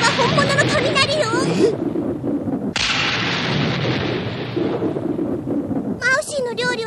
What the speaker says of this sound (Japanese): あれは本物の雷よ